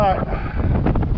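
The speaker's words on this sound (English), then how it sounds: "Boy, that wind is blowing." Wind gusts buffet the microphone outdoors during the felling of a hard maple, a rough, close rumble in short surges with a voice mixed in.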